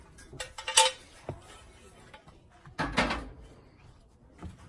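Metal door of a smoker pulled out, giving a couple of sharp clanks and a scraping rattle of metal parts, close and clear with quiet gaps between.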